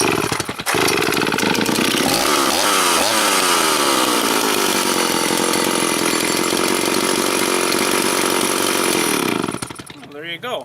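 A STIHL chainsaw with a faulty kill switch runs loud and steady at close range, its engine note wavering as it is choked, then sputters and dies abruptly near the end, leaving near silence.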